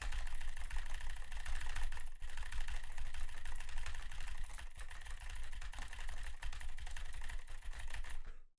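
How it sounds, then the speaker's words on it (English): Rapid, continuous computer keyboard typing and key clatter while skipping through dialogue in Genshin Impact, close and steady with no pauses for about eight seconds, ending abruptly. "Here's what my keyboard sounds on my side quest."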